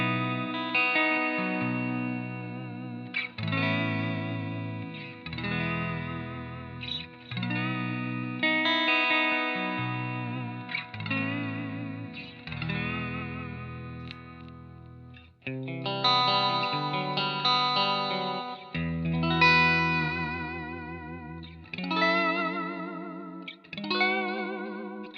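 Electric guitar played through a Positive Grid Spark amp with a bright, chimey clean tone and chorus-like shimmer, strummed chords ringing out in phrases with brief gaps, close and clear with no talking.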